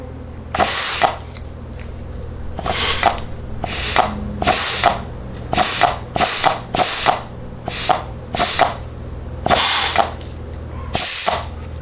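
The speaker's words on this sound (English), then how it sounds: "what you're hearing is air coming out of the back of the nozzle" Compressed air hisses from a cheap nozzle while a rebuilt TH400/TH475 transmission forward drum is tested, coming as a dozen short, sharp bursts in an irregular rhythm over a low steady background hum.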